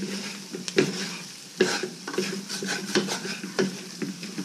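Vegetables fry in a pan with oil while flour is stirred into them, a soft sizzle under repeated scraping strokes of a utensil against the pan, close and steady, no talk.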